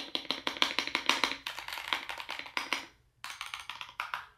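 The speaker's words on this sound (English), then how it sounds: "This is their new keyboard" Rapid clicky keystrokes on a new Higround computer keyboard, a close, steady flurry of taps with a brief pause before the typing resumes.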